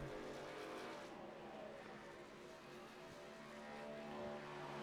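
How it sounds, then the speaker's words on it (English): A fixed-wing airplane coming in to land at the Daytona road course, its steady broad roar blending with race trucks running the circuit, a continuous loud wash of engine noise without talk. "there's a plane landing in the background"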